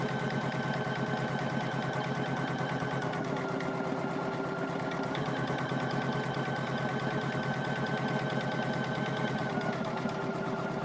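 A Poolin EOC06 single-needle embroidery machine stitching a shirt, giving a steady, rapid mechanical chatter with a constant motor hum, close and continuous throughout.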